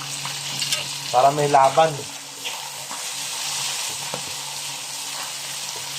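Vinegar splashes into a hot frying pan, giving a steady broadband sizzle that hisses on throughout, with a brief voice speaking near the start.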